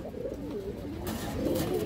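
Flying and racing-line pigeons coo in a loft, low throaty rolling calls that repeat and overlap close by, alone without talk.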